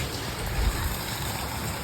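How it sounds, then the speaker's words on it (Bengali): Rain falling outside a window in a village, a dense, even hiss of drops with a faint low rumble, steady throughout. "বৃষ্টি ছাড়ার কোনো নাম নিচ্ছে না"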